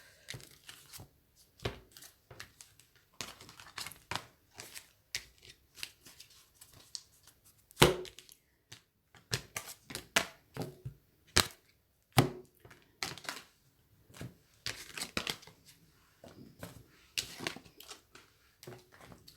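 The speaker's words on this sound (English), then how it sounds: "Shuffle the cards." Tarot cards being shuffled in bursts of sharp riffling and flicking snaps, irregular and close, with brief quiet gaps between handfuls.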